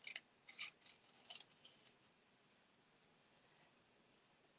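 Scissors snipping paper around letters for a handmade card, several quiet crisp cuts in the first two seconds, then near silence.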